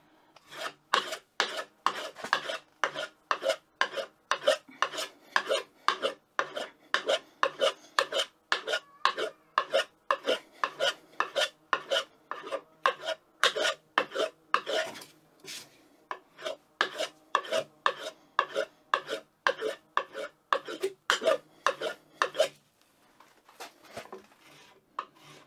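A knife blade is stropped on an MDF strop loaded with honing compound, producing a steady run of close, rhythmic rasping strokes. The strokes repeat about every half second, pause briefly near the end, then resume with a few more.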